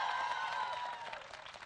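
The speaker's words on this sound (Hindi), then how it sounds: "तालियों के साथ।" A studio audience applauds to welcome a guest, India's External Affairs Minister S. Jaishankar, on a television interview set; a short, dense burst of clapping that fades slightly toward the end.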